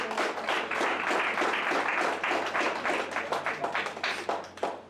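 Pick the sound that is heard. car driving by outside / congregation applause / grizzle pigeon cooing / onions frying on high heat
congregation applause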